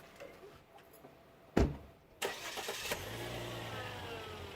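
A car door thuds shut, then a moment later the car's engine cranks and catches, settling into a steady low idle close by, with no voices.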